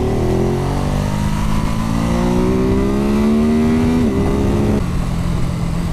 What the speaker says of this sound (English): It's got a lovely little pop, bang and crackle on the overrun at low revs.